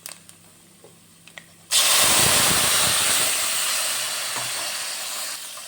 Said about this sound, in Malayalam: ഇപ്പം നമുക്ക് പുളിവെള്ളം ഒഴിക്കാം.